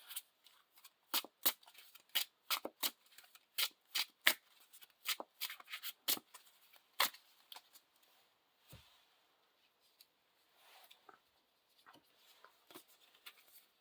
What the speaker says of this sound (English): Shuffle these into the deck.